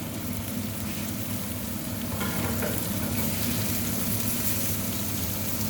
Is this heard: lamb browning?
yes